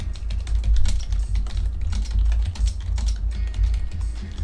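Fast, steady clicking of a computer keyboard, close and continuous for several seconds with a low background hum.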